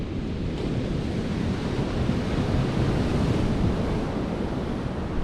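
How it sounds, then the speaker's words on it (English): Strong wind blows steadily across the Holderness coast in the UK while sea fishing, with a dense, constant roar and rumble of gusts buffeting the microphone and the surf beneath, loud and unbroken. "Wind don't sound too bad now"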